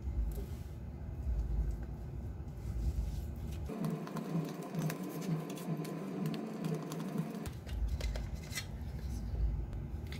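Knife cutting through a homemade chicken pizza, a dense scraping and crunching rasp in the middle, with kitchen clatter and low background noise before and after.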